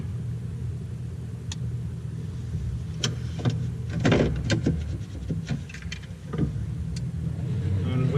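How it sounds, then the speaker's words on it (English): A vehicle winch hauls in a stuck car on a double line pull off-road, giving a steady motor whine and low rumble with brief clicks and creaks throughout, loud and close. "And winch in."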